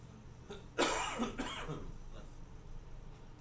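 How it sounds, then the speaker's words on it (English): A single sharp cough, followed by a second smaller one, in a quiet room with faint background hum. "It's a cough"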